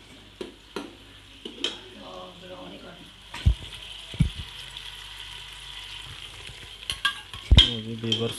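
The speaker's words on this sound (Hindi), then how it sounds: "प्याज ब्राउन करोगे अम्मी?" Onions frying toward brown in a pot on a village stove make a soft sizzle beneath clattering utensil knocks, with people talking intermittently over it.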